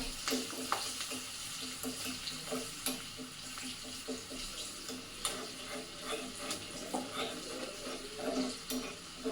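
Green chilies fry in a tempering of hot oil for poha, giving a quiet, continuous sizzle scattered with sharp crackling pops and occasional stirring.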